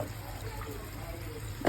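Water poured into a cooking pot for a spicy tangra fish curry, a steady low splashing and trickling stream that runs close and moderately loud for under two seconds with no talk.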